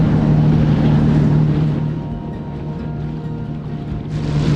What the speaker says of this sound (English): This here is a 40-foot boat.